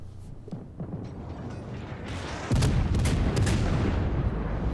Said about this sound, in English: My secondaries start firing, mainly because I want to make sure I don't get torpedoed by this Japanese destroyer.